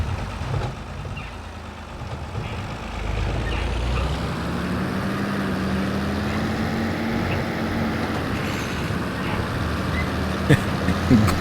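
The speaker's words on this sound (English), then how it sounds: "Grinding gears." A tractor or truck engine labours on a bumpy farm track, a steady rumbling drone with a rising tonal whine and rattling clunks as the gears grind, continuous and fairly close.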